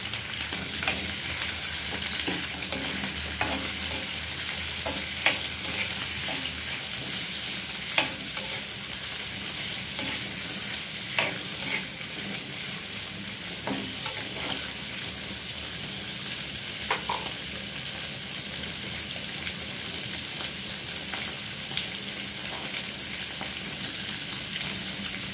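Shrimp stir-frying with vegetables in a pan, with 7UP in the dish, gives a steady, close sizzle throughout, broken by scattered clicks and scrapes of stirring, with no voices.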